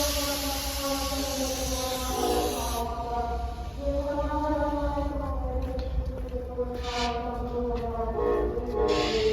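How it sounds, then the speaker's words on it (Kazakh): Passenger train number 73 running Almaty to Zhezkazgan, a steady low rumble with sustained tonal horn-like bands rising and shifting throughout, loud and continuous with no talk. "мынау біз мінетін пойыз нөмір 73-ші"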